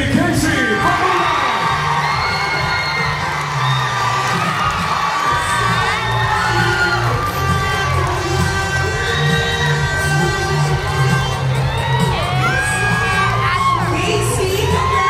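A theatre audience at a beauty pageant coronation cheers, screams and whoops loudly and continuously, a dense roar of shrill voices with scattered yells throughout.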